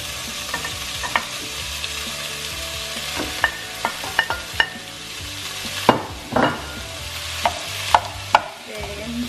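Pork mince fries in a pan, a continuous close sizzle broken by repeated scraping stirs and sharp knocks of a utensil against the pan.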